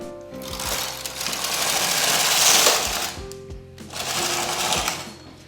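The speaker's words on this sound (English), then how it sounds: "I can just take my carriage from hold, and I will knit across on all the needles," A domestic knitting machine carriage is pushed across all the needles twice, each pass a loud mechanical whirring rattle with a short pause between.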